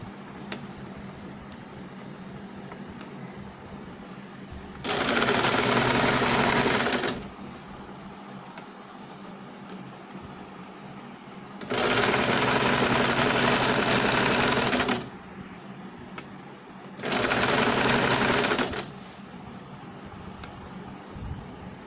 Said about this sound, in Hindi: और इसे सिलाई लगाएंगे।